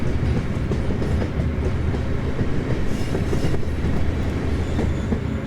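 A BB26000 electric locomotive hauling freight in a train simulator game, wheels slipping on an incline: a loud, continuous rumbling drone with grinding texture, steady and close, no voices.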